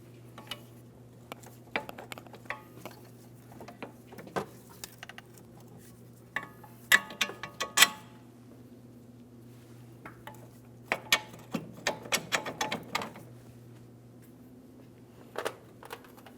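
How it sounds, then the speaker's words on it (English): A ratchet tightens the mounting bolts on a 2003-2008 Toyota Matrix steering knuckle while brake dust shields are replaced, giving scattered metallic clicks and clanks in short bursts over a low, steady background hum. "Now it's time to install those mounting bolts."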